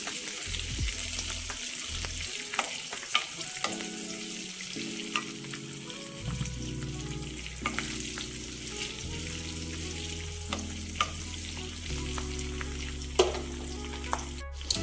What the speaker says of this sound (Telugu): ఈ తాలింపు చక్కగా వేయించుకుంటాం.